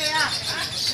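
A prize-winning lovebird at a bird contest in Tangerang gives rapid, shrill chirping trills, fairly faint against a busy background hum.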